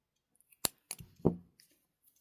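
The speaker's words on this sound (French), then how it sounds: "Je vais couper le fil." Scissors snip through crochet yarn, giving two sharp close cuts followed by a softer rustle of thread in a quiet room.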